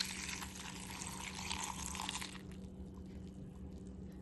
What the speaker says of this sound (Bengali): এবার দুধটা ঢেলে দেবো।